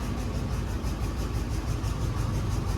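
A car engine fitted with large fuel injectors runs with no exhaust and no transmission, a loud, raw, continuous rumbling roar with a rapid pulsing beat, close and unmuffled.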